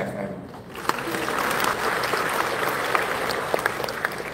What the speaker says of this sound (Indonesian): Tepuk tangan untuk CFM.